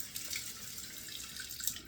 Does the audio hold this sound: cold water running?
yes